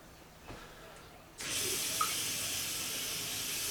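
A kitchen faucet with a freshly cleaned aerator is turned up and runs in a steady, full hiss of water after a brief quieter trickle, continuing evenly to the end.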